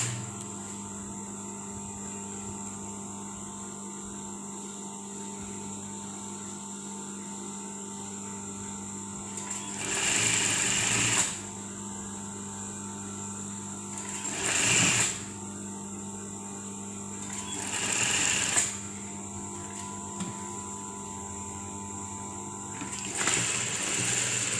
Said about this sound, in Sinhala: මෙතන ඒ විදියට ෂිපර් එක මෙහෙම මැදි කරලා මේ විදියට මහන්න.